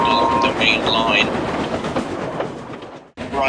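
A steam train runs along the main line, a steady rumbling clatter of engine and wagons with faint whistle-like tones, close and loud, cutting out briefly near the end.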